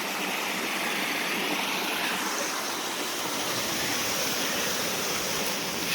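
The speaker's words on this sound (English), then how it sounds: "This is the little waterfall that we saw at the beginning of our journey." A small waterfall at Hardy Lake pours in a steady, broadband rushing roar, close and unbroken, with no voices over it.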